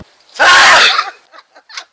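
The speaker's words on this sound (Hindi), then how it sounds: "और अब सुनिए इंसानों की छींक।" A single loud, explosive human sneeze with a sharp intake burst, followed by a few faint, short breathy sounds trailing off.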